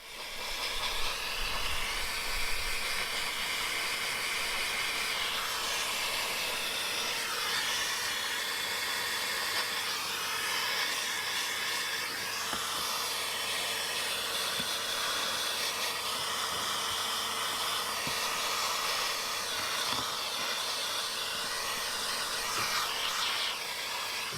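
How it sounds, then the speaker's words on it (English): A vacuum with a dusting tool attachment works over leather seats in a Ford Mustang, giving a loud, steady whooshing suction hiss that runs unbroken for over twenty seconds. "the leather was worked over with the dusting tool attachment to rid it of any loose hair and sand first"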